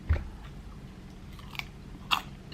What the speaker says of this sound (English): You can hear the crunch when I was chewing it.